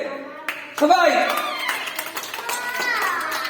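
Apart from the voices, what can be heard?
children clapping hands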